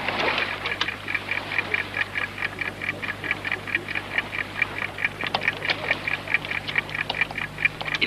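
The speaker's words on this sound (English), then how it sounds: "They planted a time bomb underneath the floor." Time bomb ticking beneath a car floor, a rapid, even run of bright ticks repeating steadily throughout, close and clear over a low hum, with no speech.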